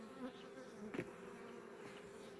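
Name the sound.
honey bees buzzing at an open hive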